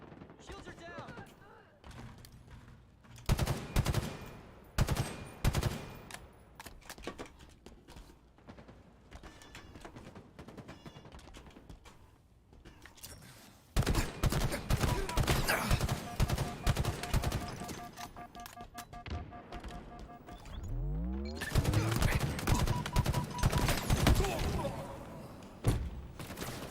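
Gunfire from the Halo video game rattles in repeated bursts and volleys, some loud and close, with thuds and mechanical clatter between them, and voices talking over parts of the fight.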